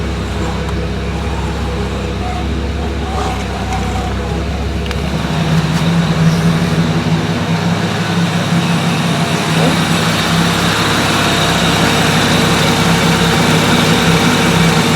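A Toyota Cressida's 5M-GE engine, fitted with a swapped power steering system, runs at a steady idle, a continuous close rumble that grows fuller and louder after a few seconds.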